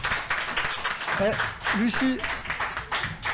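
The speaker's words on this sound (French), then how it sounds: "On peut l'applaudir très très fort" Applause from an audience at a live show in a living-room setting, a steady broadband patter of clapping with cheers, under a voice speaking over it.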